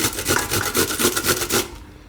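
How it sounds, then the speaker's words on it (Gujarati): Radish rubbed against a hand grater, rhythmic rasping strokes at a steady pace, close and fairly loud, stopping near the end. "હવે મૂળો, તો મૂળો આમાં આપણે છીણી નાખીશું"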